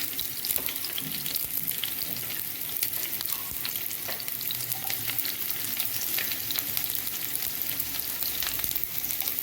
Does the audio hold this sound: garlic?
yes